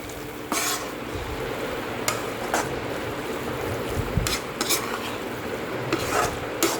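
Coriander powder stirred and sautéed into a butter paneer and green peas masala gravy in a pan, with a steady low sizzle broken by repeated scraping strokes of a spoon against the pan, close and moderately loud.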